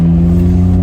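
A Suzuki Cervo Mode kei car pulling away from a light, its small engine giving a steady, close, mid-pitched hum that holds evenly throughout with no voices.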